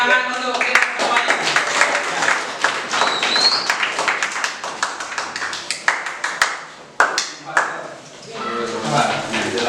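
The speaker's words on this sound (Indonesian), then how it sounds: "Nah, tepuk tangan untuk kita semuanya." Clapping from a lower-secondary classroom of students in a science lesson, with sharp, uneven claps and taps that continue while voices talk over them.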